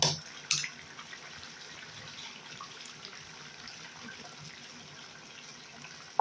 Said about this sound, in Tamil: கொஞ்சமாக தண்ணி கலந்து கூட நம்ம இதில் ஊற்றலாம்